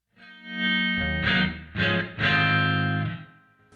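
Electric blues guitar through a Helix modeler with a room reverb mixed in, a few sustained notes and a short phrase ringing out with a gentle ambient tail, clear and close with no talking.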